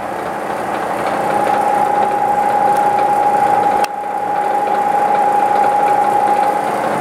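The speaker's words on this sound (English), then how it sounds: "Machine is moving from point to point on a bolt hole pattern." A Bridgeport Series I two-axis CNC mill moves between points on a round bolt hole pattern, giving a loud, steady motor whine with one brief break midway, heard alone and close.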